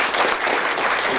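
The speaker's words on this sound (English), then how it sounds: "give them a big round of applause" An audience applauds the event organisers at a vote of thanks, with steady, dense clapping that stays loud and even from start to finish of the short burst.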